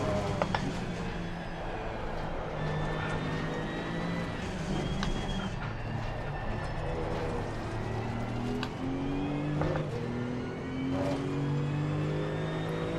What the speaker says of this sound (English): Do you think it sounds nice? It sounds like a road car,